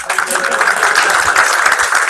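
Audience applause at a game studio pitch event, a dense, steady wash of clapping lasting about two seconds, with faint voices mixed in.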